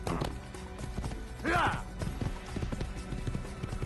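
Horse hooves clip-clopping in the video game Assassin's Creed, a steady rhythmic trot under continuous game music and ambience, with a brief whinny-like call partway through and someone talking over it.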